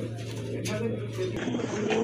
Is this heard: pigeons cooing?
yes